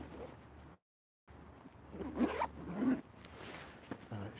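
A bag's zipper is pulled open near the microphone in a couple of rasping strokes after a brief silent gap, with faint rustling around it outdoors.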